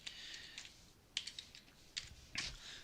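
Someone types in short bursts on a computer keyboard, with quick clusters of light key clicks separated by brief pauses, close and clear with no talking.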